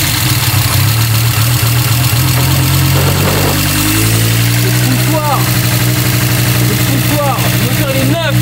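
Audi Quattro with a freshly rebuilt engine idles steadily nearby, a loud, even mid-pitched rumble with a slight rhythmic knock, while people talk over it.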